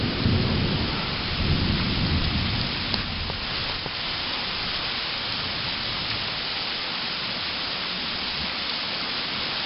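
Steady heavy rain from a thunderstorm at a backcountry campsite on a solo backpacking trip, with low rumbling thunder rolling through early on, dense and continuous with no voices.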